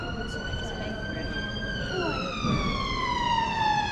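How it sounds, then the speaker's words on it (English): A long, steady siren wail carries from a distance over low traffic rumble, its pitch sliding slowly and continuously. "So again, I can hear police sirens in town."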